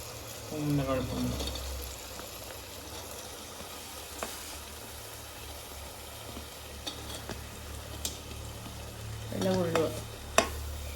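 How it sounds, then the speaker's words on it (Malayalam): Chopped onions sautéing in a pan for biryani give a soft, steady sizzle, with a few louder bursts of stirring near the start and end and an occasional sharp clink of the spoon. "സവാള ഒന്ന് വഴണ്ടിട്ടുണ്ട്"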